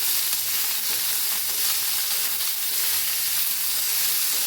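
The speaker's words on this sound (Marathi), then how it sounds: "कोथांबीर घेतले ह्याच्यासमोर भाजूया" Coriander roasting in a pan for amla chutney gives a steady, dense sizzle that runs unbroken and fairly close throughout, with no voices.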